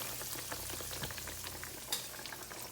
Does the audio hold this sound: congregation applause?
no